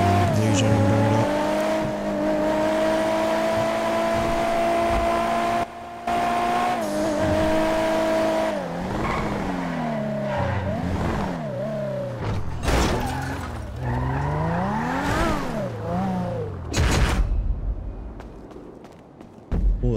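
A GTR sports car in a racing video game, its engine droning steadily and then revving up and down through rapid shifts, with squealing skids and tire screeches toward the end.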